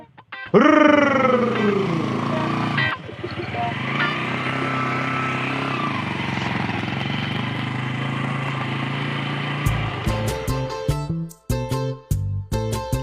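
A motorcycle engine runs close by, rising in pitch as it revs and then settling into a steady drone before dropping away near the end, followed by choppy bursts of sound.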